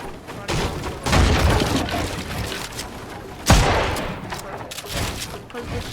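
Shotgun blasts in Fortnite gameplay, two sharp loud reports about two seconds apart amid busy game noise and scattered smaller impacts.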